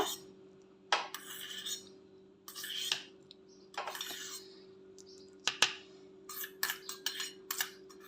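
A spoon mixes fenugreek powder and curd in a bowl, giving quiet scraping strokes and sharp metallic clinks against the bowl. The sounds come in irregular bursts over a faint steady hum.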